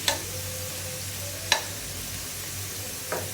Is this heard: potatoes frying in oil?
yes